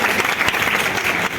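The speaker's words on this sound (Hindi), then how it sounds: "एक बार ताली बजा दी।" An audience at an indoor student award ceremony in Padrauna, Kushinagar, breaks into a short burst of dense, loud clapping.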